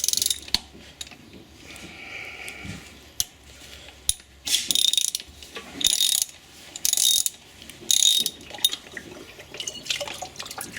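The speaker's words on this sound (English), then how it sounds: "We're going to want to put an extension on that and then attach it to a ratchet." A ratchet with an oil filter socket loosens the oil filter on a 2015 Ford Taurus SHO, giving bursts of loud, rapid clicking close by, separated by brief pauses, with no talking.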